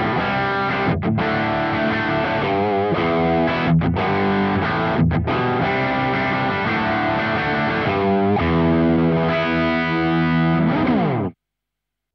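Electric guitar played through a Nano Cortex neural capture loaded into a preset, giving a thick, heavily distorted tone; continuous sustained chords and riffs ring loud and close with brief pauses, then cut off abruptly near the end.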